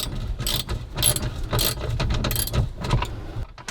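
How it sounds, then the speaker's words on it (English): A socket wrench ratcheting on RV bolts, close and loud, with quick repeated clicking bursts of the pawl as the handle swings back and forth in a steady rhythm. "It is a little bit difficult to be able to reach in there with the socket or a wrench"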